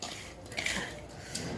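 Lemon pickle being stirred and scooped into a storage container at home, giving soft scraping and clinking of a spoon against a metal vessel, steady and close with no talk.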